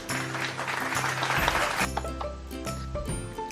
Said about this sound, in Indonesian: Kita berikan tepuk tangan kepada teman-teman yang sudah menjawab